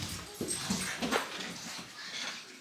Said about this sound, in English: Let's go see the puppies.